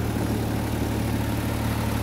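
A Cushman Truckster utility vehicle's engine runs with a steady, close, low droning hum and constant vibration, no variation in pace throughout.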